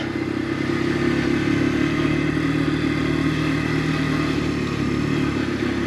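Keeway X-Light motorcycle, a budget bike under £2500, ridden over cobblestones: a steady, loud engine drone with continuous rattling clatter from the rough surface, constant throughout with no talk.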